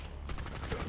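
Gunfire in the Rainbow Six Extraction video game: a quick, fairly quiet burst of rapid shots, fading in and over in under a second.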